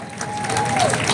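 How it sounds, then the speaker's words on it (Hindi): An audience at a live ghazal and bhajan event at Omex Chowk mall claps together in dense, continuous applause with some crowd noise mixed in, while a voice carries on over it. "तो आप तब तक ताली एक बार बजा दें"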